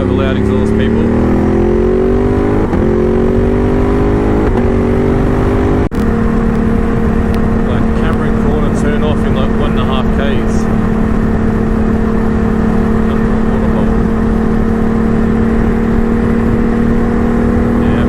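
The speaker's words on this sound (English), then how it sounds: "So we have a loud exhaust, people." Loud car exhaust droning and revving close by on an outback road trip, the engine note climbing in steps before settling into a steady heavy hum, with people talking over it.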